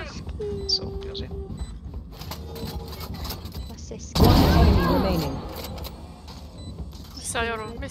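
Gunfire in the tactical shooter Valorant, a loud burst of rapid shots erupting midway through quieter game sounds, with a player talking over the action.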